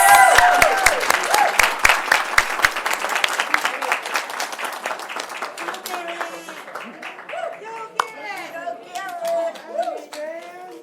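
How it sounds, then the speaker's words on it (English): Applause and clapping from an audience fill a school board meeting hall honoring transition program students, loud at first then thinning into scattered claps with children's voices and chatter underneath. "let's give them another round of applause."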